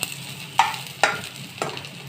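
Garlic sizzles in a hot pan while a utensil stirs three times, each stroke a quick scrape over the steady frying hiss.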